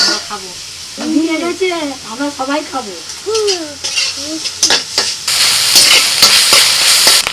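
Onion paste fries in oil with bay leaf, dried chilli, cardamom, cinnamon, cloves and whole cumin. Someone talks over the sizzle at first, then the frying swells into a loud, steady hiss with stirring clatter.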